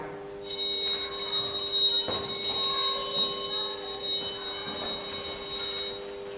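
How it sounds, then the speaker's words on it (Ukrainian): An electronic school bell rings in a gymnasium-style school, a sustained bright ringing tone that holds for several seconds at moderate loudness, with a few faint bumps of background noise and no speech. "Передаю вам електронний дзвоник, символ дисципліни та ритму шкільного життя."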